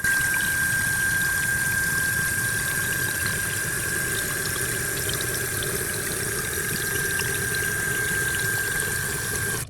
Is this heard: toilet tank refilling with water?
yes